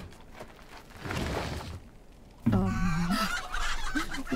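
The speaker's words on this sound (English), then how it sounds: "You just open the fucking door and let all the chickens out." Chickens cluck close by in the Farewell North video game, with a burst of rising, agitated clucks after a rustling, noisy start. Ambient game sound continues beneath, with no speech.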